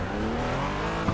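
Porsche GT4 race car engine in the iRacing simulator, a steady sustained engine drone with rich harmonics held at constant load, rising slightly with a brief surge near the end, no talk.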